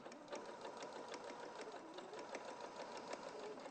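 A sewing machine stitches a wide curve, its needle running in a steady, rapid, even rhythm that stays close and constant throughout; no one speaks.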